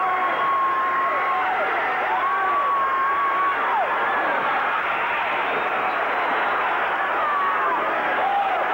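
A Memphis wrestling crowd roars steadily throughout, with a dense wall of cheering and chanting and whistles and shouts rising above it, loud and close.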